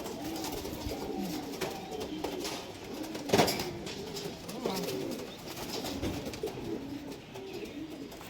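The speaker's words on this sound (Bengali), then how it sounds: "বন্ধ লেজের পায়রা" Closed-tail pigeons coo in a low, continuous murmur with overlapping calls, and a short louder burst partway through.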